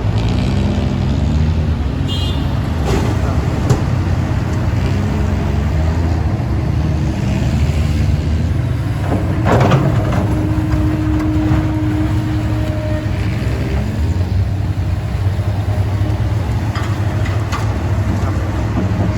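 A Hino truck engine drives steadily at a dirt pit, a loud continuous low rumble with a constant drone that holds for the whole stretch without pause.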